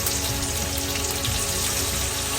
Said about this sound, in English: Take a little bit of this white cooking wine and just pour a little